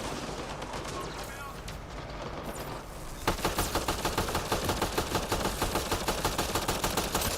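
Rapid sustained suppressing gunfire in Mass Effect Andromeda, a steady automatic-weapon burst with evenly spaced loud shots that starts abruptly after a few seconds of dense noisy background and continues to the end.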